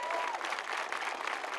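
Applause from an audience at an official announcement event, a dense and even wash of clapping that holds steady throughout.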